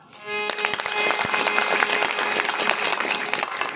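An audience at a religious discourse clapping together, a dense burst of many hands that starts after a brief pause and keeps going steadily to the end.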